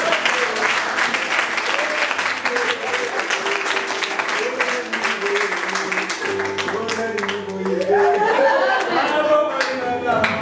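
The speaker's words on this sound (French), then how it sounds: "On acclame très fort pour le voir." A church congregation applauds loudly and continuously, with clapping, cheering and crowd chatter throughout, swelling toward the end.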